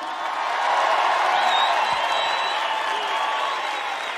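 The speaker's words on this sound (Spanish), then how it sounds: "Quiero pedir un fuerte aplauso para el maestro Chango Espasiuk" An audience claps and cheers for the maestro Chango Spasiuk on stage at the Cosquín 2024 festival, a loud, dense wash of applause and whoops that swells and holds steady.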